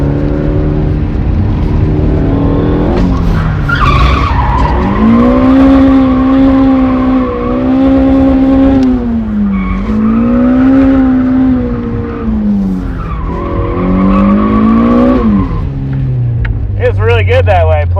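A mid-engine car drifting in first gear, its engine revving high and swinging up and down in pitch as the throttle rises and falls, loud and close, with tyre noise and a brief voice near the end.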